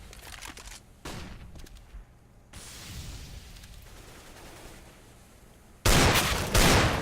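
Desert Eagle pistol gunfire in a Counter-Strike match on the Mirage map, irregular loud bursts of shots and impacts, with the heaviest volleys near the end.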